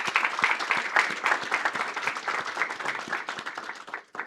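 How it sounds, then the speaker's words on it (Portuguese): Church congregation at a morning service applauds for friends on Friend's Day, a full room of clapping hands, continuous and moderately loud, thinning out at the end. "Vamos dar uma salva de palmas para os nossos amigos, né?"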